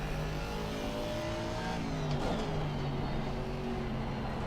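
Aston Martin GT race car engine from Assetto Corsa Competizione, racing at the Hungaroring: a steady in-car engine drone holding near-constant revs with a brief pitch dip and recovery midway, loud and continuous, no speech.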